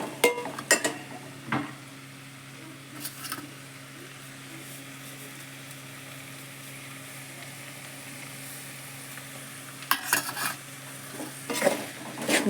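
Salt being stirred into a Telangana-style mango and egg curry simmering in oil in a pan, a soft continuous sizzle broken by a few scraping, clinking stirs near the start and end.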